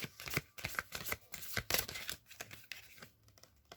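A deck of oracle cards is shuffled by hand before a single card is drawn, giving a run of quick papery riffles and slaps in irregular bursts, close and clear with no talking.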